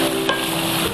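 Onions and green chillies sautéing in a pan, giving a brief, continuous close sizzle with a single soft stir.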